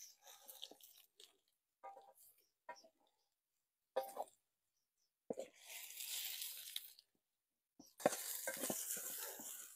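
Eggs stir-fried with wild scallions in a full pot outdoors, with scraping and stirring clatter in short bursts, then two longer stretches of loud sizzling frying.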